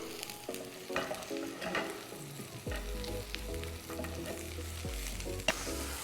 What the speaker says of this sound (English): I have some mushrooms that I chopped up in some olive oil.